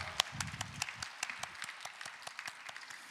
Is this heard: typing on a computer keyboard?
no